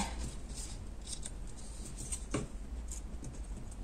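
Folds of a small paper Christmas gift box are creased by hand, making quiet, close crinkling and scraping rubs with a few short sharper strokes, over a low steady background and no speech.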